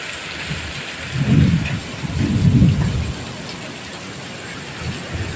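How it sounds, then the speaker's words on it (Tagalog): Heavy rain hammers a corrugated tin roof in a dense, constant patter, while two deep rolls of thunder swell and fade in the middle of the downpour. "Naririnig nyo ang ano, patak ng ulan no, sa ating bubong."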